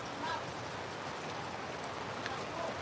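Rain pours on a farm near a hut before a storm, an even, dense patter with no pauses, moderately loud and close.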